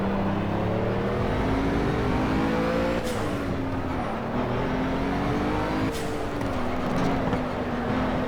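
A car engine in a racing video game hums loudly and continuously, climbing in pitch through each gear before dropping sharply at two upshifts, with no talking over it.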